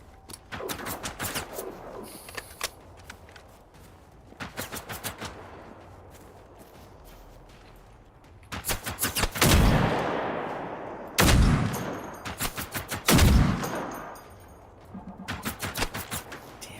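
Enemy gunfire in the Generation Zero video game, rapid bursts of automatic shots in several volleys, some sharp and close, others with heavy booming impacts, loud with no talk.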